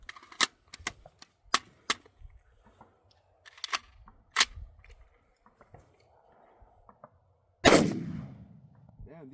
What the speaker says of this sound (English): SS109, 20 rounds out of the pistol.